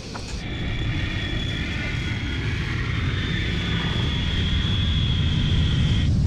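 Steady, loud engine drone inside an airliner cabin as the plane descends to land in New York, a constant rumble with a faint high whine running unbroken throughout, no voices.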